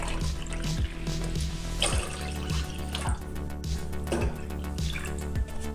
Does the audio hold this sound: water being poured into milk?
yes